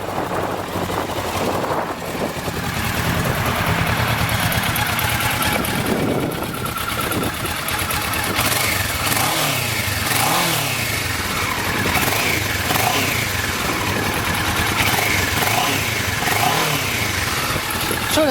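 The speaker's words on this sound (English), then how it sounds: "The twin cylinder has a unique, sounds different than a 4-cylinder, unique sound to it." A 2012 Kawasaki Ninja 650 twin-cylinder motorcycle idles and revs close by, a steady loud engine drone with rising and falling throttle swells throughout.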